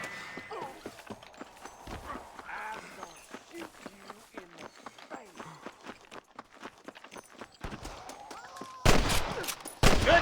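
Gunfire in the Western video game Red Dead Redemption: a dense run of sharp shots and crackling impacts mixed with footsteps and hoof-like clatter, building to loud, close bursts near the end, with voices in the background.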